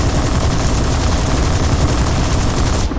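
Aircraft machine guns firing in War Thunder while strafing: a loud, unbroken rattle of rapid gunfire that runs for the whole stretch and cuts off abruptly at the end.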